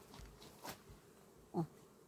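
Bees flying around apiary hives on a very hot day with only a few colonies active; faint, distant buzzing with a couple of brief fly-by swells, mostly quiet.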